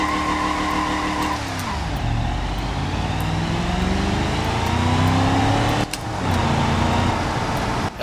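A car in BeamNG.drive launches from a standstill at low RPM, its engine note climbing steadily through several gear changes, loud and continuous with a brief tire scrub at the start.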